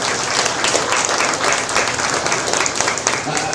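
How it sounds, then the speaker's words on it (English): Ringside crowd at a sheep showmanship and market lamb show giving the helpers a loud, sustained round of applause, dense overlapping claps close and continuous throughout. "Go ahead, please, give them a round of applause."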